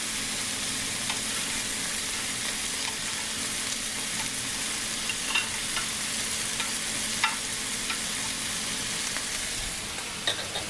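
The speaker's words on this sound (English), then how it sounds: "I'm going to make sure the rice is evenly distributed in there." Rice being stirred and spread evenly in a hot pan for a one-pan baked pork chop dinner, with a steady low sizzle and occasional soft scraping taps of the spoon, no voices.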